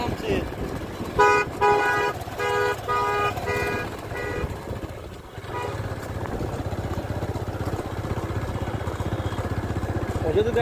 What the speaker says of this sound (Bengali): একটা বাস নামছে।